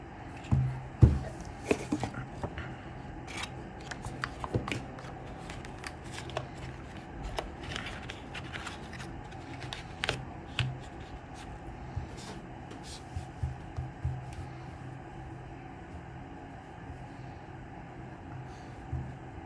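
A Google Pixel 7 Pro box is opened by hand, with close rustling, sliding cardboard and plastic, and a series of small taps and scrapes spread across the stretch.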